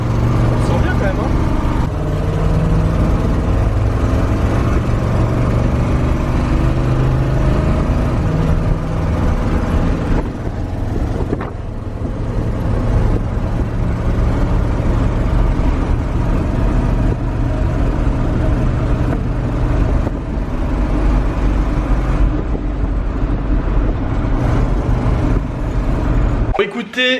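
A 1978 Chevrolet Cheyenne pickup driving off, its engine a steady loud rumble that carries on throughout while people talk over it.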